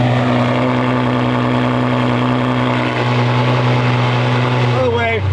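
A Ferrari engine idles very loudly and close, a constant deep droning hum with strong steady tones that changes slightly near the end.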